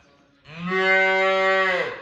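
Simmental calves mooing: a single loud, close, drawn-out bovine moo lasting about a second and a half, rising and then tapering off, with no talking.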